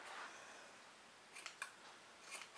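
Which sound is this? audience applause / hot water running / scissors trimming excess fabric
scissors trimming excess fabric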